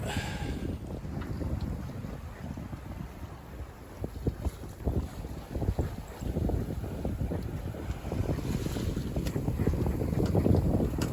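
Gusty wind buffets the microphone on a sailboat in the Gulf of Fos on the Mediterranean, with rumbling low noise throughout, alongside faint sloshing of water, no voices.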